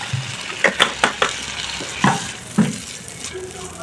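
Water splashes into hot frying masala for a paneer gravy, giving a few short close bursts of sizzle and spatter that quickly fade to a low simmer, with no talk.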